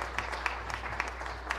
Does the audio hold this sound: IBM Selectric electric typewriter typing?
no